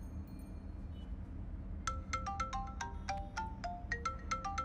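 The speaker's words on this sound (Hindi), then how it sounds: "तुम्हारा भी फोन बज रहा है" A mobile phone ringtone plays a bright, repeating melodic pattern of chiming tones over low, steady road rumble inside a car, moderately faint.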